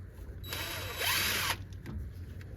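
A power tool whirs for about a second, pitches up briefly, then stops, backing 10mm bolts off the engine of a 1997 Toyota Tacoma with a 3RZ engine; close and alone, followed by faint clicks and handling noise.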